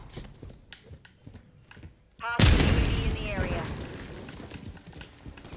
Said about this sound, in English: Why are they aiming for me on the damn predator missile?